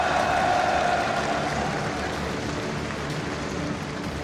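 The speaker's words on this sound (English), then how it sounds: "Et le support, bien entendu, une salle d'applaudissements, s'il vous plaît, pour Morning." An audience applauds at a 2018 MSI esports semifinal match, a dense, steady wash of clapping from a large crowd that eases slightly toward the end.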